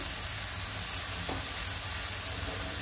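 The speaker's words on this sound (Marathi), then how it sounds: "बघा 2 ते 3 मिनिटं फक्त तेलावर ही परतलेली आहे।" Spices sautéing in oil for a Konkani-style egg and dried shrimp dish, a steady close hiss of frying with a faint stir sound midway, no voices.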